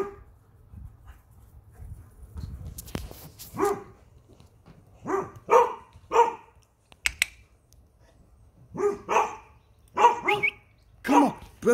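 Dogs barking outdoors in snow at night, bursts of loud barks in clusters with pauses between, while a person speaks quietly nearby.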